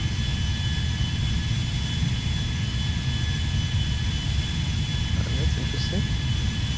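Steady, loud roar of Boeing 777-300ER jet engines in the GTA V video game, a constant broadband whine and rumble throughout with a few faint higher tones.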